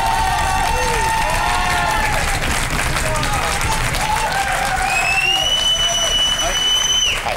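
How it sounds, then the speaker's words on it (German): Big studio audience applause at a German Big Brother talk show as a guest walks in, dense and sustained throughout, with cheering and whistle-like tones on top and a voice speaking over it. "einen riesigen Applaus"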